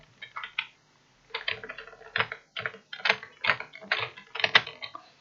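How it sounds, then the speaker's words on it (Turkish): Quick clattering keystrokes on a keyboard, typed in short irregular bursts with brief pauses, close and crisp. "Burada çok fazla klavye sesi geliyorsa kusura bakmayın"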